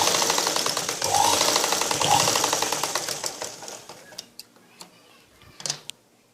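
Sewing machine stitching a blouse, running in a steady rapid mechanical rattle that gradually slows and thins out, followed by a few separate clicks and clunks of the mechanism, fairly quiet and close.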